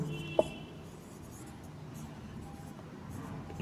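Chalk or marker writing on a classroom board during a Hindi physics lesson, a faint scratchy stroke with a couple of soft taps, heard quietly alone under room hiss.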